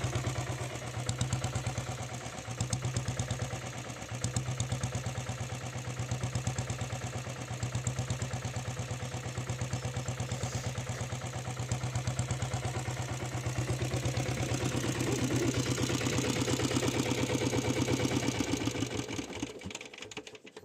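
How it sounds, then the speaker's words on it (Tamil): A factory diesel Royal Enfield Bullet motorcycle idles nearby with a steady, evenly pulsing thump-and-clatter that holds for about twenty seconds before fading at the end, with no voices over it. "வண்டி பீட்டை கேளுங்க."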